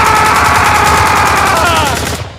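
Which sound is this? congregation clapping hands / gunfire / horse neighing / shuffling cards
gunfire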